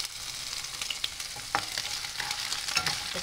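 Garlic and ginger fry in a pan for a sour vegetable curry, giving a continuous crackling sizzle broken by scraping stirring strokes, close and moderately quiet, no talking.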